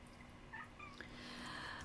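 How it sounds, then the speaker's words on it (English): A kitten gives a few faint, high meows that sit low in the mix above a steady background hum, with no talking. "That was the kitten."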